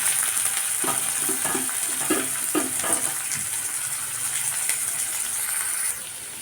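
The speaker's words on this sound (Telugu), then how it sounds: "కొంచెం నూనెలో వేగనివ్వాలి" Grated carrot, tomato, green chilli and curry leaves fry in oil for vegetable Maggi noodles, a steady sizzle broken by a run of stirring scrapes and clatters partway through.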